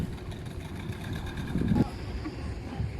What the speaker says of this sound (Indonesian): kapal motor.